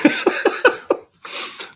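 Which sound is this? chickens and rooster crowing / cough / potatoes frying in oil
cough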